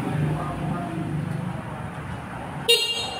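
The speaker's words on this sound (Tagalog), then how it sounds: "Oh, yun ang busina niya po." A vehicle horn gives one short, loud honk near the end, standing out sharply from steady low background noise.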